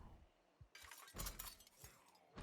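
Window glass smashes in the zombie survival game Project Zomboid, a sharp close shatter followed by scattered tinkling shards and a few low thumps, fairly quiet overall.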